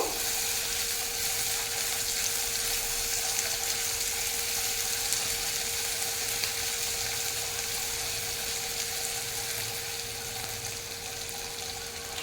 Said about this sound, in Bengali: এখন এর মধ্যে আমি দিয়ে দেবো আদা রসুনের থেতো করা পেস্ট। এটাকেও একটু নাড়িয়ে ভেজে নেব।